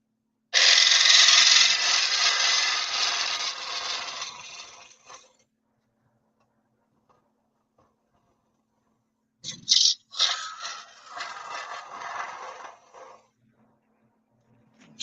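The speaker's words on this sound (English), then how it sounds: "Small round nose scraper." A small round nose scraper cuts wood spinning on a lathe, giving a loud, close, hissing scrape that lasts about five seconds. After a long silence a second, shorter pass follows.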